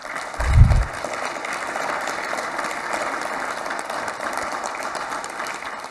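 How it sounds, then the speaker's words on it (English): A courtroom-style legal community event audience gives a steady round of applause for a group of kids, even and sustained throughout, with a brief low thump at the start. "give these wonderful kids a round of applause."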